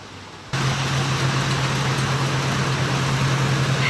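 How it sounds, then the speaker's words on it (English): Heavy rain pours steadily at a lakeside, a dense unbroken hiss that jumps in abruptly and holds loud and even, with a low steady hum running underneath. "It is pouring."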